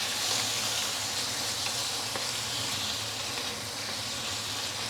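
Blanched pork belly sizzles steadily in a wok of thick, deep brown caramelized sugar as it is stirred, a continuous bright hiss with faint low rumble throughout.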